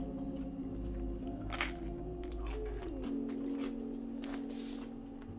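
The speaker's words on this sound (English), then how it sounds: "You can hear it crunch as I squeeze it." Overcooked 1980s-style pan pizza squeezed by hand, producing a few close crisp crunching crackles of the crust over a steady background hum, with no talking.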